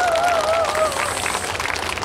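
Festival crowd applauding steadily throughout, a dense wash of clapping with a bright whistle-like tone gliding over it near the start, loud and close.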